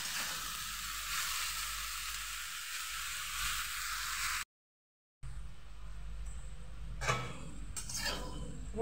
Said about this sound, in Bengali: এবার ঝিঙেগুলোকে সুন্দরভাবে ভেজে নেবো আলুর সঙ্গে